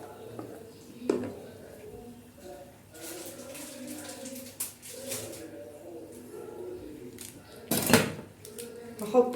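Stuffed vegetables (mahshi) with tomato paste being stirred in a pot, bringing a few sharp metallic clanks and scrapes of a utensil against cookware over a quiet kitchen background, with faint murmured voices.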